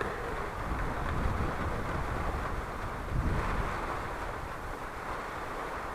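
Steady, dense roar of wind during Hurricane Ian, broadband and unbroken, with gusty swells and a heavier surge partway through, no voices.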